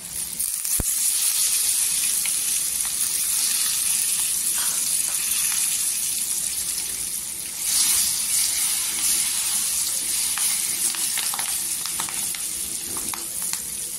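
Red chillies and curry leaves sizzle in hot tempering oil for moong dal varan, a steady loud crackle with a brief sharp pop near the start and a slight surge midway, no voices.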